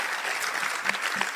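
A church congregation in Mampong, Ghana claps together in a brief burst of steady applause, with no speech over it.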